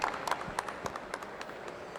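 An audience at an aerospace-sector conference applauds an engineer after his talk. The claps are light and scattered, fairly faint, and come in an irregular patter without a full roar.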